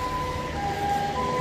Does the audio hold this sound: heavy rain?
no